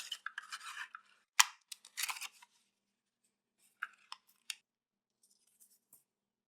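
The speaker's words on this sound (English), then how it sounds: "I'm going to cut these guys off because I want to cut it in half" Scissors cutting through paper card for a handmade tea cup card, heard as several short crisp snips in small bursts, close and quiet, with pauses between them.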